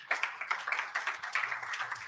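Applause from a small audience at a general meeting, a short burst of close, fairly quiet hand clapping with an uneven rhythm for about two seconds.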